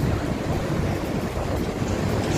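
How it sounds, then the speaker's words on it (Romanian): Wind blows steadily near a city park with jungle trees, a continuous loud roar buffeting the microphone with no pauses or voices. "Și vântul ăsta care începe să bată de... amenințător."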